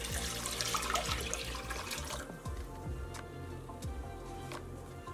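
Water pours into a pot from a tap while making lemonade with lemon zest, a splashing stream that fills the first half before easing into softer drips and trickles.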